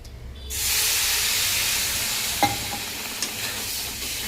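Water poured into hot pan of fried semolina bursts into a loud, steady steaming hiss that swells after a quiet start and holds, with a couple of brief clinks from a utensil.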